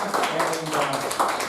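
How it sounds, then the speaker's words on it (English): A small meeting audience gives a brief round of patchy, close applause with a few voices mixed in. "Please give a big round of applause."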